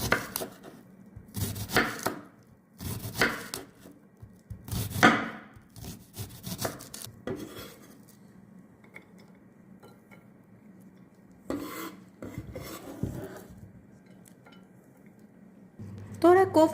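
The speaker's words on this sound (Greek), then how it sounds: "Στη συνέχεια ψιλοκόβω και το κρεμμύδι." Onion being finely chopped with a knife on a board in a home kitchen while cooking shrimp with rice, heard as bursts of rapid, crisp knife taps separated by pauses, with someone talking briefly in between.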